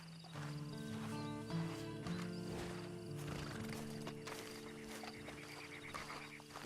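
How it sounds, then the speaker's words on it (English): Horse noises in the video game Red Dead Online: a horse snorts and whinnies near at hand, with clip-clop hoof steps over a steady tonal game background, fairly quiet overall. "And you better get on this horse."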